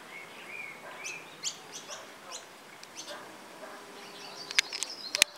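Hooded siskins call near a trap cage outdoors: faint, high, thin chirps and short twittering phrases come scattered at a distance, ending with a few sharper, louder clicks.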